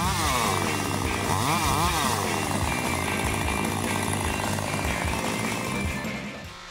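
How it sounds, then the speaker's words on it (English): A Stihl MS881 chainsaw mill roars steadily at close range, its engine pitch rising and falling as it bites through a maple log before easing off at the end. "He created a powerful style MS881 chainsaw milling combination"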